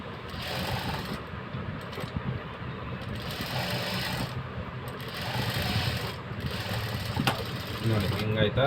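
A sewing machine stitches a blouse with a steady, busy mechanical whirr in several runs with brief pauses, while a person talks over it.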